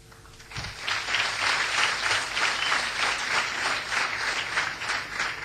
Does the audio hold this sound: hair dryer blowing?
no